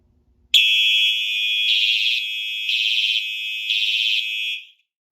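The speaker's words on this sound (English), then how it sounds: "the detector obviously went into alarm" A fire alarm sounds during a smoke detector test, a loud, close, high-pitched electronic tone that starts abruptly, pulses in three regular bursts and cuts off cleanly.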